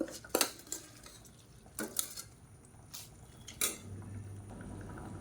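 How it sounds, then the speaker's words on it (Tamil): Metal pot of boiling water on the stove as soaked rice is tipped in, with a few sharp clinks and clatters of a vessel or spoon against the pot, spaced apart over a faint bubbling background. "இப்போ ஊற வச்சுருக்க அரிசியை சேர்த்துக்கலாம்."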